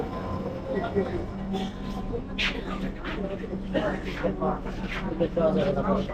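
A Dhaka metro rail train runs between Uttara and Motijheel, a steady rolling rumble and low hum throughout, with people talking over it.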